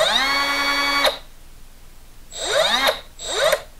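A Milwaukee M12 brushless cut-off tool spins up with a rising whine, runs briefly, then stops almost at once; two more short start-and-stop bursts follow after a pause, close and loud.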